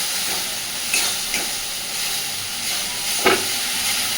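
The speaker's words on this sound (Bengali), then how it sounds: "একটুখানি মশলাটাকে নাড়াচাড়া করে কষে নেব।" Spice paste fries steadily in a pan for a Bengali cauliflower fish curry, a constant close hiss broken by a few soft scrapes of stirring, with no voices.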